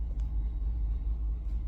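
A 2014 Ram 2500 pickup with the 6.4 HEMI V8, suffering a cam and lifter failure, gives a steady, loud low rumble of engine and road noise from inside the cab while driving, with no talk.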